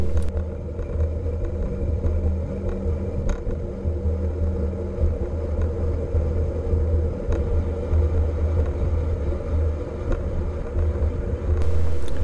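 Road traffic rolls past beside a cycle path, a steady low rumble of cars and engines that stays fairly loud throughout with no talking.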